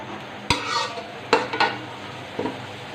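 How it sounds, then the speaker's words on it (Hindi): Onions frying on a high flame for Hyderabadi mutton dum biryani, with a steady sizzling hiss underneath and a few sharp clanks and scrapes of a utensil against the pot. "on high flame I will fry this onion"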